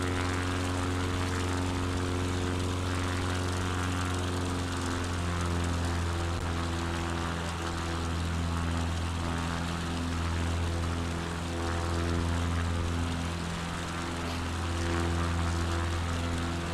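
Steady, loud drone of a single propeller airplane engine near maximum RPM in Microsoft Flight Simulator 2024 on PS5, a constant low harmonic hum running the whole time with no talk.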